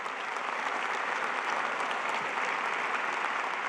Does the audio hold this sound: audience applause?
yes